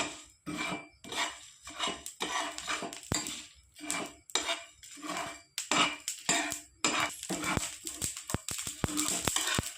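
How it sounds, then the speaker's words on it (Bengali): Coriander, cumin and fennel seeds dry roasting in a pan, heard as rhythmic bursts of scraping and rattling as a spoon stirs them, with clinks against the metal, close and fairly quiet. "এবার দিয়ে দেবো ধনে জিরে মৌরি ভালো করে শুকনো খোলায় ভেজে নেব"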